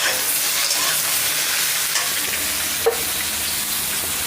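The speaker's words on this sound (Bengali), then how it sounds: "তখন আমি আলুটার মধ্যে পটলগুলো সব ছেড়ে দেব।" Pointed gourd pieces and potatoes fry in a hot pan with a steady broadband sizzle, while a utensil stirs and scrapes through them and one sharp clink stands out near the end.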